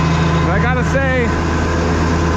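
A Super 88 diesel engine runs steadily on a dyno, a loud, constant low drone with steady harmonics, while someone talks over it briefly.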